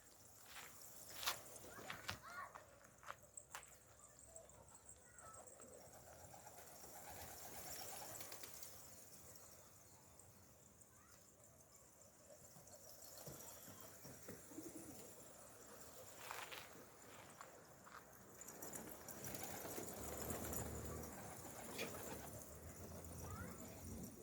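Pigeons in a coop, with soft intermittent cooing, wing flaps and shuffling footsteps close by over a steady background hiss; a faint voice comes in briefly.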